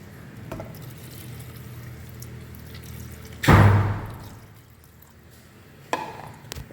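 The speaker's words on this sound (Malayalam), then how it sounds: "ഒന്നാം പാല് ഇത് ഞാൻ അതിനകത്തോട്ട് ചേർക്കട്ടെ" Thick first-press coconut milk is poured into a simmering chicken stew, giving one short liquid splash midway that fades into quiet kitchen background.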